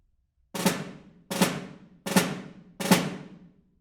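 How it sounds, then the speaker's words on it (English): Four sharp closed drags on a snare drum, each a quick buzzing cluster of strokes ringing out, evenly spaced about a second apart, close and clear with no talking. "So first, I will play for you a closed drag"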